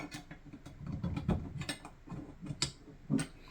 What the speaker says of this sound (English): I'll take the A300 piston and I'll put it in 1301.